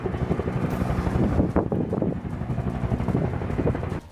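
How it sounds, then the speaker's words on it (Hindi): Firefighting helicopters spraying water over a burning forest produce a steady, loud roar of rotor and wind noise, continuous and broadband throughout, with no voices. "कई हेलीकॉप्टर आसमान से आग पर पानी की बौछार करते नजर आए"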